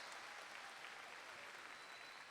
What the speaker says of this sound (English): Let's give this class of 2021 a huge round of applause.